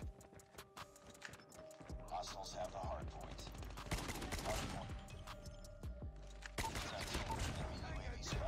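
SKS rifle firing in Call of Duty Mobile, reloading after each shot: sharp, punchy reports spaced irregularly among game effects and clicks, with a player talking over the action.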